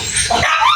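A single sharp dog bark, loud and close, followed by a brief yelping tail.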